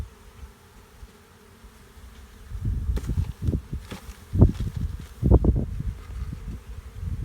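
Low buzzing of many honey bees that swells after a quiet start, with soft rustling and handling noises, no talking.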